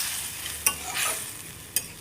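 Five-spice seasoning hisses and crackles in a hot pan for a carrot curry, punctuated by two sharp metallic clicks from a stirring spoon.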